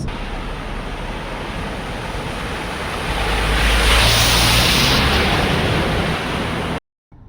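A car pushes through flood water on a Malaysian road, making a continuous loud rushing wash of water that swells in the middle before dropping away abruptly.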